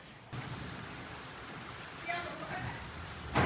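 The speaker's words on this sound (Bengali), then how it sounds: "তোমরা দেখে শুনতেই পাচ্ছ যে আমাদের এখানে বৃষ্টি হচ্ছে" Steady rain falls outdoors on a rainy morning, a continuous soft hiss of moderate loudness throughout, with a brief muffled voice-like sound partway through.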